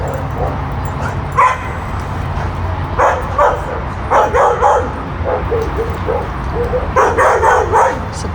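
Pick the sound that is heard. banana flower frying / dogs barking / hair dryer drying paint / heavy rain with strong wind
dogs barking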